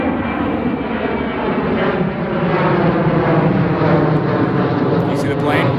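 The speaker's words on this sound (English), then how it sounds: "We got a plane coming in." A propeller airplane drones steadily overhead, a loud sustained engine rumble with a gently shifting pitch across the whole stretch, and people talking beneath it.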